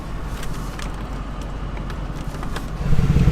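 A 2019 Mercedes-Benz G550 engine idles with exhaust baffles closed, a muffled, steady rumble, then swells slightly toward the end as it is revved a little.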